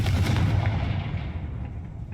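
A Confringo blasting spell detonates in the Hogwarts Legacy video game, a single loud booming explosion that rolls off into a fading rumble over about two seconds.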